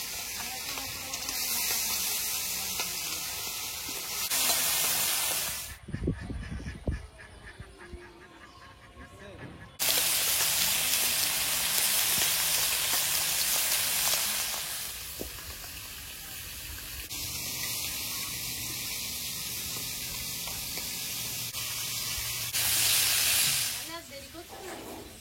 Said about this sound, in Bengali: তেলটা গরম হয়েছে, মাছগুলো দিয়ে দেবো।